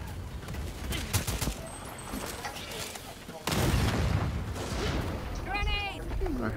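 Grenade explosions and gunfire in the co-op shooter game Second Extinction: a dense, loud barrage of booms and rapid shots, with players talking over the din and a brief chirping effect near the end.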